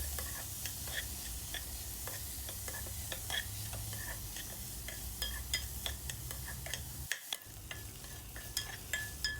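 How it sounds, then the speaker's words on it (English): Finely chopped tomatoes fry in a pan over a medium flame for chicken curry, a soft continuous sizzle dotted with quick ticking pops and occasional spoon stirs, close but quiet, with no talking. "on medium flame, we'll fry the tomatoes until they turn soft and mushy"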